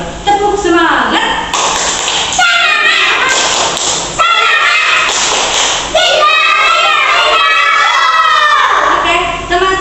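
Schoolchildren in a classroom doing a rhythmic group spirit clap, bursts of patterned claps and thumps mixed with loud children's shouting and a teacher's voice over the clatter.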